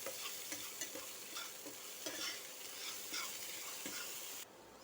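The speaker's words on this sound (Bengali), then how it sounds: "সামান্য একটু হলুদ গুঁড়ো দিলাম, দিয়ে এটা একটু ভালো করে ভেজে নিচ্ছি।" Spices with a pinch of turmeric frying and being stirred in a pan for a vegetarian banana-flower chop filling, a steady close sizzle broken by repeated scraping stirs, with no talking.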